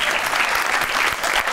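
A burst of audience applause for Qasim Ali Shah in a television studio, thick continuous clapping from the crowd for a moment.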